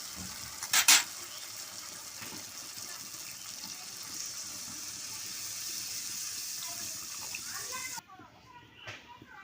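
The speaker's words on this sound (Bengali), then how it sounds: "এবার দিয়ে দিচ্ছি আমি জল" Water goes into a rohu fish curry with potato and ridge gourd, making a continuous hissing, rushing sound after a brief clink. The sound stops abruptly, leaving quieter kitchen noise.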